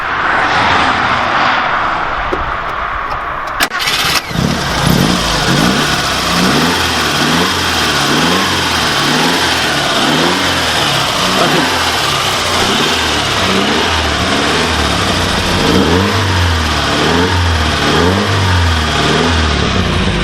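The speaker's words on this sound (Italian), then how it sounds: "facciamo sentire qua l'accensione" An Alfa Romeo Arna engine cranks and catches, then revs in repeated rising and falling bursts at close range, loud and alone with no talking over it.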